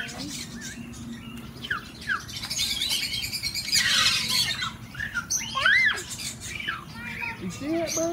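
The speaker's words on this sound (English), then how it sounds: "You see that bird?" Birds chirp and squawk at an animal sanctuary, a run of bright calls and tweets close by, with children talking over them.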